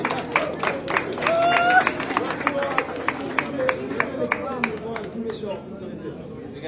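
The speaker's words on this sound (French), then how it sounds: "Et vous applaudirez ça" An audience claps in appreciation during a talk on an African physicist, sharp, brisk claps in a quick run that thin out toward the end, with voices talking underneath.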